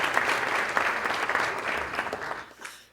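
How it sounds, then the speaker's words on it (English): Dinner guests at a banquet applaud a consulate representative, a full continuous round of clapping that tapers off near the end, somewhat distant. "Let's give a round of applause right over here"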